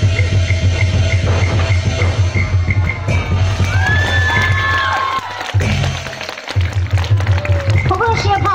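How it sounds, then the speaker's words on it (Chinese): An opera audience cheers, screams and applauds loudly at a live performance, a dense close crowd roar with high shrill shouts rising over it and a brief dip near the end. "尖叫声。"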